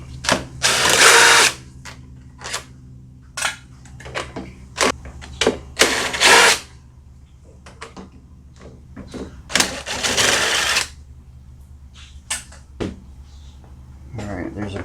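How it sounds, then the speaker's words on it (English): Short bursts of a power tool remove a 10mm bolt and two 10mm nuts from a Cub Cadet lawn mower engine, with pauses between bursts and someone talking throughout. "we have to take off this 10mm bolt and two 10mm nuts"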